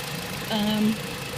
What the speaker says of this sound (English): Engine always sounds like this. Doesn't need an oil change.